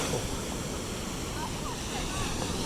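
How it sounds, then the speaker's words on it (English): Ocean waves roll onto a beach at Karon in Phuket, Thailand, a constant broad roar of surf mixed with wind buffeting the microphone, close and loud throughout. "Got more waves here."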